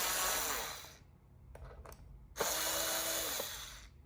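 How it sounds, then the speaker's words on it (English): An electric screwdriver driving screws into a side table whirs in two loud bursts separated by a short quieter gap with faint clicks, close up, with no talking. "this electrical screwdriver"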